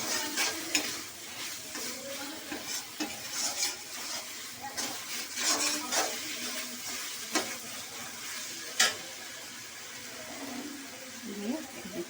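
Fried coconut is stirred into cooking masala for Bengali ghugni, giving a soft steady sizzle with scraping spoon strokes against the pan, fairly quiet and close, with no talking.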